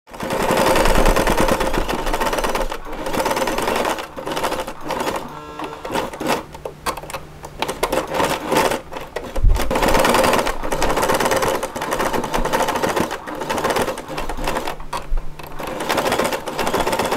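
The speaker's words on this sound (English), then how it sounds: "sew along the bottom to create the box shape" A sewing machine stitches along the bottom of a fabric pouch, its needle chattering in a rapid, steady rhythm up close, broken by short pauses between sewing runs.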